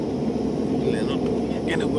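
A steady, loud low rumble of engine and airflow fills the cabin of an IndiGo passenger airplane, droning evenly throughout with faint brief sounds on top.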